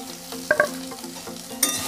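Grated boiled potatoes being stirred with lightly browned fried onions in a pan for singara filling, soft sizzling under a few scraping spoon strokes and clinks, close up with no voices.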